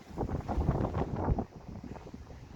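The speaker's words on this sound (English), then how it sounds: "Wind's still blowing very bad, very choppy out there." Strong gusting wind buffets the microphone on a stormy New Brighton shore while bass fishing near choppy water, a loud rumbling roar that swells and eases without pause and has no talk over it.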